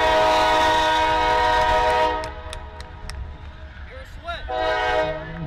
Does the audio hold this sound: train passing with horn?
yes